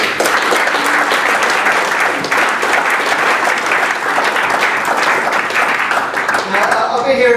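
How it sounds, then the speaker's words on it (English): A crowd at a football club's senior awards night breaks into loud, sustained applause, dense clapping filling the room throughout, with a voice briefly heard near the end. "I just want to get everyone to firstly give them a clap."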